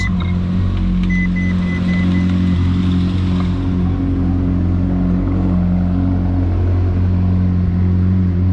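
A totaled 2012 Ferrari California engine runs steadily at a loud, close idle, with a deep throbbing rumble and a faint high whine throughout.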